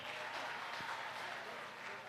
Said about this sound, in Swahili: Makofi kwa Waziri.